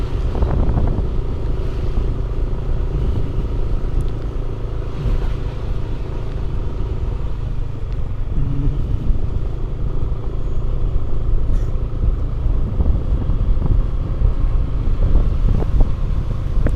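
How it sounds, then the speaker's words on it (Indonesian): Cold wind blows outdoors at night near houses in a village, a steady broadband rush with low rumble that stays loud and constant throughout, with no talk. "Dingin. Anginnya dingin."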